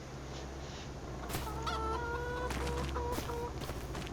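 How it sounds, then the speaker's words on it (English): Chickens cluck and squawk in Farming Simulator 25, a few close, repeated clucks over a steady farmyard background. "And then our chickens."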